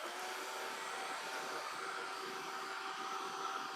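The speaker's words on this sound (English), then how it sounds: "I'm going to take my dryer and give this a dry." A hair dryer blows air steadily over a wet watercolor painting, a continuous even whooshing hum with a faint tonal whine, close and moderately quiet, with no voices.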